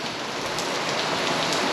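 Steady rain pours down at a race track in Brittany, a dense, even hiss of drops on hard surfaces, close and constant throughout with no voices.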